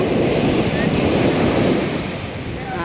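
Sea waves wash in at the old harbour in Pondicherry in the evening, with a broad, rushing roar, mixed with gusty wind buffeting the microphone.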